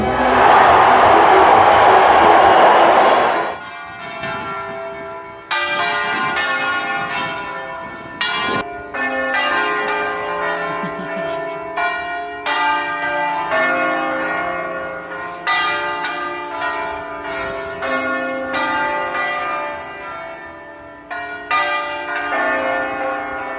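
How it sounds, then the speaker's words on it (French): Church bells peal for a long stretch around the announcement of a new pope, irregular overlapping strikes ringing out loudly after a brief burst of crowd noise at the start. "Solo de cloche."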